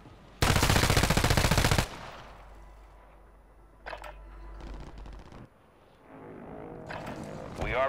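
A video game battle opens with a loud burst of rapid machine gun fire that lasts just over a second. Fainter scattered shots, clicks and game effects follow under quieter stretches.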